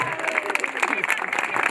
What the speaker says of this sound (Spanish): El aplauso, señoras y señores.